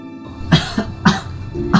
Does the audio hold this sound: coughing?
yes